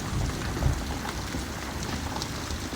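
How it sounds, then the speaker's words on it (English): Hail during a thunderstorm bounces off a slip and slide, making a dense, steady patter of small impacts with a few louder thumps near the start. "You can hear the hail down here bouncing off the slip and slide."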